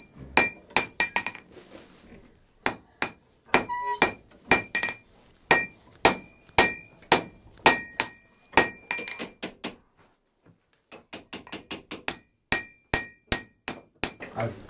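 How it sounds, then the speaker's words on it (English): Blacksmith's hammer and chisel strike high carbon steel, cutting barbs into a bit to grip wrought iron for an 18th-century frontier tomahawk; a steady run of sharp, ringing metallic blows, close and loud, with a brief pause midway. "So now what I'll do is I'll chisel that to create some barbs that'll bite into the wrought iron."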